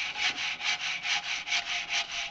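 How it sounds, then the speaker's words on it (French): Special saw for aerated concrete blocks cutting through a block in steady back-and-forth strokes, about eight rasping, gritty pulls in a close, even rhythm with no talk. "La découpe des blocs de béton cellulaire s'effectue avec une scie spéciale béton cellulaire."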